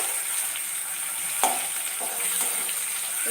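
Tomato fries in hot oil for a egg dal preparation, a steady bright sizzle with occasional scrapes and knocks of a spoon stirring through the pan, close and continuous.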